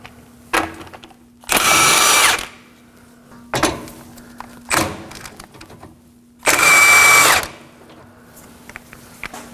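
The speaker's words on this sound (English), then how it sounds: "Using a 14mm socket, we're going to remove both the top and the bottom nut." A power tool fitted with a 14mm socket runs in two loud, sustained whirring bursts with short spins and clunks between them while removing sway bar link nuts on a 2014-2020 Acura MDX, close up in a quiet garage.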